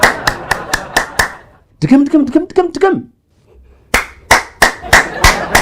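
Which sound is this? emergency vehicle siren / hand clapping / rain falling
hand clapping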